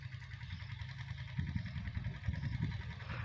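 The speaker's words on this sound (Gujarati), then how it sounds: "સોનાલિકા એટલે સોનાલિકા. જો નાનું મિની ટ્રેક્ટર. જો એનો અવાજ ક્યાંય ઘટે નહીં એવો આવે." A small Sonalika mini tractor engine runs steadily with a low, continuous rumble, sounding close and fairly loud without letup; faint voices may be present underneath.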